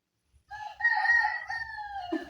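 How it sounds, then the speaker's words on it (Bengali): A rooster crows once, close and clear, a single drawn-out call rising and holding before breaking off, against a quiet background. "সকালবেলা কিন্তু মোরগ ডাকে আমরা কম বেশি সবাই জানি"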